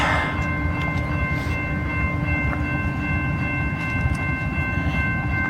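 A freight train rolls past in Girard, Illinois, a loud, steady rumble of rail cars with clattering wheels and faint tonal whines above it, continuous and close throughout.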